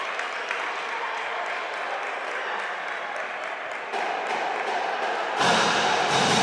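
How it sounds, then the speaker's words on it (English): East Central fans at a high school basketball game against McAlester applaud steadily in a crowded gym, a dense wash of clapping and crowd noise that swells louder near the end. "East Central fans applauding"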